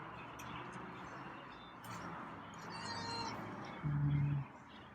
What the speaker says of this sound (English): You're meowing.